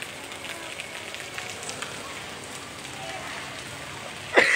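Heavy rain falls at the Daya bus terminal in Makassar, a steady close hiss of drops on surfaces lasting throughout, with a short louder burst near the end.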